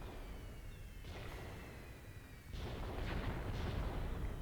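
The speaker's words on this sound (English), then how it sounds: "we're getting some artillery here" Artillery fire in the war video game Graviteam Tactics: two or three heavy, rumbling booms at a distance, each followed by a lingering roll, over continuous battlefield noise.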